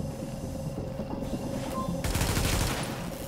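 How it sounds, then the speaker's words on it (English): Turret gunfire in a video game, a rapid sustained burst that thickens and grows louder in its second half, rattling continuously over a steady mechanical hum. "I'm gonna shoot something with my turret."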